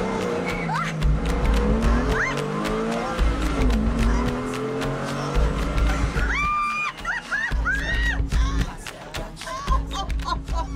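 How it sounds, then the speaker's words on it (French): Hard acceleration followed by hard braking in a car on a French motoring show, with engine roar and loud repeated tire squeals and skids, near and continuous, while people talk over it. "On accélère fort et on freine fort."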